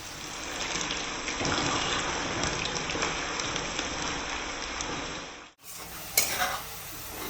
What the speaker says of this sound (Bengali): এখানে আমি 2টো পেঁয়াজ বেরেস্তা বানিয়ে নিচ্ছি